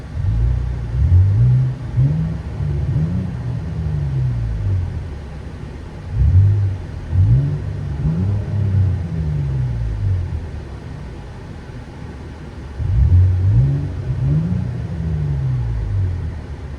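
A 2023 Nissan Frontier 3.8L V6 fitted with a BIGBOZ exhaust, heard from inside the cab as the engine revs in three separate bursts, each climbing and falling with a deep, loud rumble and a steady idle drone between them.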